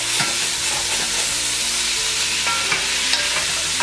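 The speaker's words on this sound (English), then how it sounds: "So I just add all of that in there and mix this again." Diced tomatoes are stirred into a frying spaghetti meat sauce: a close, steady sizzle with repeated scraping and clacking of the spoon against the pan, and no talking.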